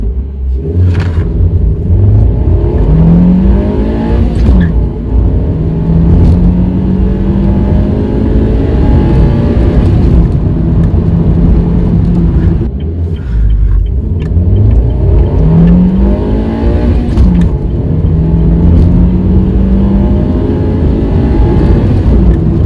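A car engine fitted with a K&N drop-in air filter drones steadily and close, with several rising revs and gear shifts repeating in cycles over the continuous road rumble.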